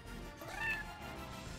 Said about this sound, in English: Why is it a fucking meow?